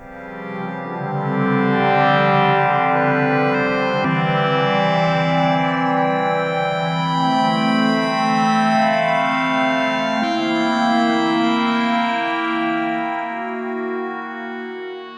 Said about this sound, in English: A black hole style reverb really sends us into space synthesizer territory.